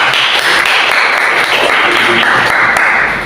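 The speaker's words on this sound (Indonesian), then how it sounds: "Jadi semuanya tepuk tangan buat Mas Farhan." Loud, dense applause from a room full of people at a writing workshop, continuous clapping at a steady level for a few seconds.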